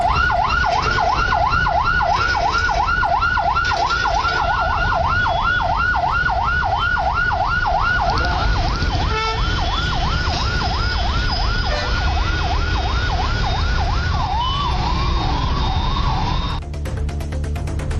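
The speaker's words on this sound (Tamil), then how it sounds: "ஆம்புலன்ஸ் ஒன்றும் நெரிசலில் சிக்கியது." An ambulance sits stuck in heavy traffic on a rainy monsoon road, its siren wailing in a fast repeating up-and-down sweep for most of the stretch before shifting pattern and cutting off, over a steady backdrop of engine noise.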